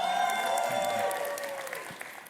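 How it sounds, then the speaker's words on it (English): An audience at a Las Vegas leadership conference claps for a wedding congratulation, a short dense burst of applause that fades out over about two seconds, with no clear voices. "You guys clapped like you're at a golf event?"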